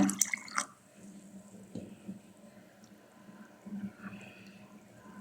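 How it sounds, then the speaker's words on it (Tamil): Water poured into thick rava dosa batter gives a short splashing burst at the start, then faint wet dripping and squishing sounds close by. "இன்னும் ஒரு இரநூறு எம்எல் தண்ணி சேர்த்துக்கலாங்க"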